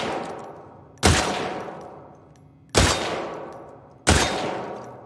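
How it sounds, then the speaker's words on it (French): Rifle gunfire in the video game The Last of Us Part II, three loud, sharp shots spaced over a second apart, each followed by a long ringing decay. "Mais c'est quoi ce fusil de ouf?"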